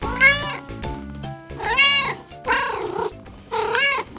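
A domestic cat meows four times in clear, close, drawn-out calls, each rising then falling, spaced about a second apart with short quiet gaps between.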